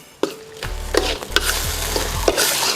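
Bamboo razor clams are stir-fried in a wok for a spicy Thai phat cha, with sharp clanks of the spatula against the pan over a bright, close sizzle.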